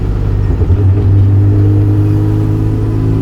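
A car engine cruises steadily at about 2200 rpm, heard from inside the car as a loud, constant low drone with a firm hum and no pauses or changes.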